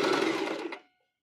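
Sewing machine stitching a seam on a children's crochet dress with a sunflower square, a brief close whirring run that slows and stops within a second.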